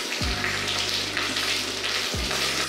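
Onions and spicy chili bean paste fry in a hot pan for Taiwanese beef noodle soup, giving a steady loud sizzle with faint stirring scrapes and no talking.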